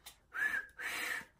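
A person attempts to whistle, producing two breathy, wavering whistle tones in quick succession, faint and close to the microphone with no talking.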